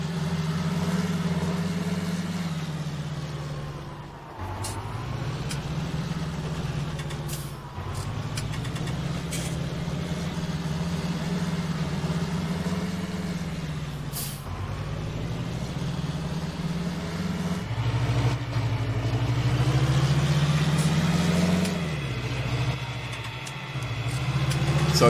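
A John Deere tractor pulling a seeder in Farming Simulator 19 drones at a steady mid-pitched engine idle, its revs rising and dipping slightly now and then, close and unbroken with no voices.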